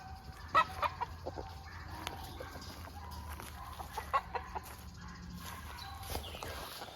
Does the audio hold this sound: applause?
no